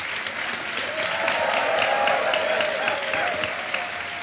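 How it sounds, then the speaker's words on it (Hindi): Sustained studio audience applause with cheering on a Hindi quiz game show, loud and steady throughout without speech. "और शोर और ताली बजती रहे।"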